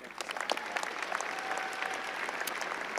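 A commencement audience applauds steadily through the whole stretch, a dense crowd of clapping hands at an even, sustained level with no voices rising above it.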